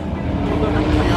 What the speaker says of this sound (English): LFA is leaving.